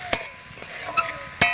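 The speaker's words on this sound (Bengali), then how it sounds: "আমি বেশিক্ষণ ধরে গাজরটাকে ভালোভাবে ভেজে নিচ্ছি" Grated carrots frying in a pan for gajar halwa, stirred with a spatula: a soft continuous sizzle broken by four sharp scraping strokes against the pan, close by and loud, with no talking.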